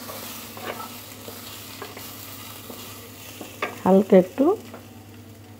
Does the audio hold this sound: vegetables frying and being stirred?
yes